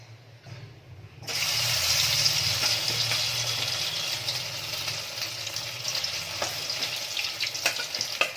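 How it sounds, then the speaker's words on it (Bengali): Egg-coated soya chunks drop into hot white oil and start to fry. A loud, dense sizzle bursts in after a quiet second and keeps crackling steadily, with occasional spatters and spoon clicks. "তেলটা গরম হয়ে গেলে যে সোয়াবিনগুলো ভালো মতো মাখিয়ে নিলাম সেটাকে একটু ভেজে নেবো"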